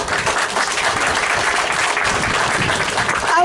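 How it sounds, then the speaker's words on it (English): An audience claps at the 100th anniversary celebration of Lassen's Resort Hotel. The applause is dense and sustained throughout, a full room of hands clapping together at close range. "I want to hear a louder round of applause"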